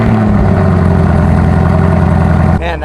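A stock Chevrolet Camaro ZL1 fitted with an AFE intake idles close by, a loud steady low rumble that thins out suddenly near the end.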